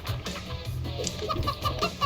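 Chickens clucking in the video game Moving Out, a few short bright clucks arriving in quick succession near the end, over a low background rumble.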